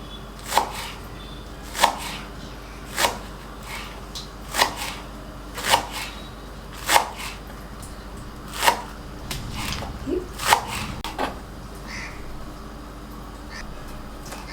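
Knife chopping spring onions for vegetable fried rice, a steady series of sharp, close taps roughly once a second on a cutting board, with a brief quicker cluster of cuts near the end and no talking.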